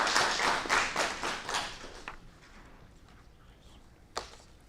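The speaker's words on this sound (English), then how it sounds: "So let's give her a round of applause." An audience at a school district board meeting claps briefly, with a burst of scattered applause that fades within two seconds, followed by a faint room murmur and a single sharp tap.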